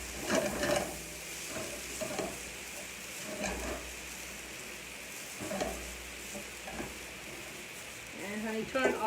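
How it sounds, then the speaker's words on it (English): Basil fried rice sizzles hard in a pan over high heat as soy sauce goes in, a steady frying hiss broken by scraping stirs and clinks, with a voice speaking over it. "Keep the heat high at all times. Add a little bit of soy sauce just to deglaze everything."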